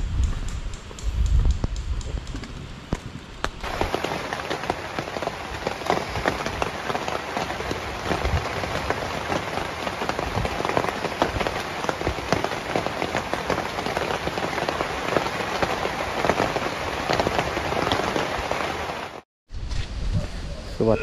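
Steady rain drumming on a tent at a free campsite in Khao Yai National Park, Thailand, a dense continuous patter that fills the whole stretch with a brief break near the end; no one speaks.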